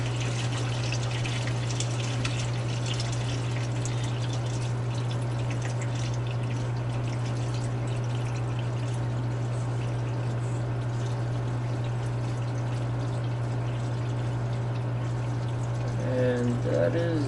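A steady rush of water draining through an aquarium overflow siphon gurgles continuously under a constant low mechanical hum, with a brief burbling change near the end as the siphon builds.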